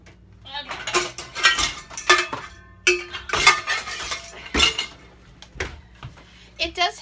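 Pans rummaged and clanked in a home kitchen: a rapid series of loud metallic clanks, clinks and scrapes in irregular bursts, with a person talking intermittently between them.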